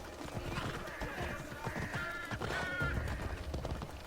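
Horse whinnying with clip-clopping hooves in the game Assassin's Creed Odyssey, a steady busy mix of neighs and hoof beats over game ambience throughout.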